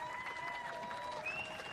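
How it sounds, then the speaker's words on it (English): Fans applaud at Southwell racecourse after a morning workout by the Derby winner, a steady, moderately distant patter of clapping under a race commentator's voice. "To the applause of fans at Southwell there with the nice work in the morning."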